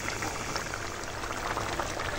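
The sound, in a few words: bata fish in thin curry gravy boiling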